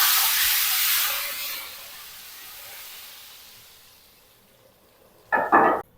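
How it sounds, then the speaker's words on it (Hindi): A hot tadka poured over dal mash hisses loudly at first, then fades gradually into a faint sizzle, with a short burst of sharper noise just before the end. "तो गरम गरम तड़का शामिल कर देंगे दाल के ऊपर।"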